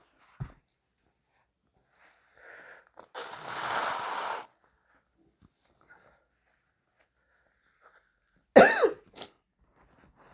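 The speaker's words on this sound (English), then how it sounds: "Let me blow my nose" A close, breathy, snuffling burst like a nose being blown, followed by a quiet pause and then a sharp cough-like snort.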